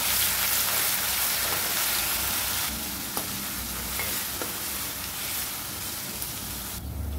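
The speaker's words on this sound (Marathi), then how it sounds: "इथे मी अर्धा चमचा मोहरी आणि कढीपत्ता टाकून घेणार आहे आणि आलं लसूणची पेस्ट टाकून घ्यायची सुरुवातीला" Mustard seeds, curry leaves and ginger-garlic paste sizzle in hot oil for a Maharashtrian chili curry, a steady close frying hiss with faint crackles that eases slightly partway through.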